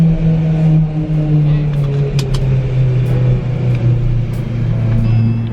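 A deep, rumbling BMW M3 exhaust with an aftermarket Meisterschaft system idles and burbles steadily up close in a garage, with a low growl and a few faint higher clicks.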